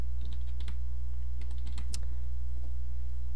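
Computer keyboard typing during a game-development tutorial: a few scattered, light key clicks in short clusters over a steady low hum, with no talking.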